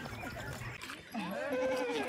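Goats in a Maasai village in Tanzania bleat in wavering calls over steady ambient noise, with a voice faintly mixed in.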